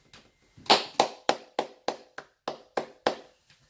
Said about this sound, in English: I have to give you a round of applause